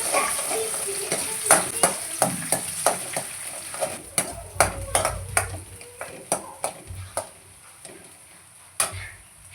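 An egg cracked into hot oil in a pan sizzles and crackles, while a utensil repeatedly clinks and scrapes against the pan in sharp, close taps.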